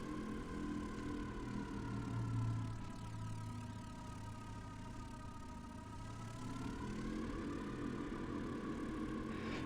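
Engine of a Vickers Vimy biplane in Flight Simulator X, running steadily at idle with a low, even droning hum and layered harmonic tones, a slight pitch shift midway, with no voices.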